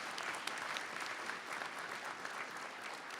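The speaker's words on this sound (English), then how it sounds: "Let's give her a big hand applause," An audience at an academic convocation honoring excellence breaks into sustained applause, a dense, even wash of clapping from a large crowd filling the whole stretch at moderate distance.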